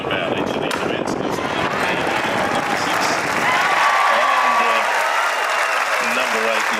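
Audience applause at a 275mm tree felling contest final, loud sustained clapping and cheering from an outdoor crowd while an announcer talks over it.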